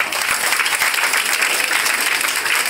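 Steady applause from a school audience at a Republic Day celebration in a hall, dense and loud, filling the whole span without talk.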